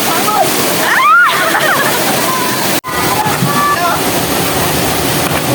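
Water at Kalisang Falls, a clear-water waterfall, rushing and splashing loudly and continuously nearby, with voices and shouts over it early on and a brief cut near the middle.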